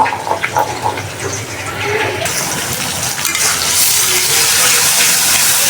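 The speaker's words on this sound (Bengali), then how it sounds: "এখন ধোয়া মোছা করে নিব।" Dishes are washed under a running tap. The water starts with splashing and clatter, then becomes a loud, steady gush for the last few seconds, with faint voices in the background early on.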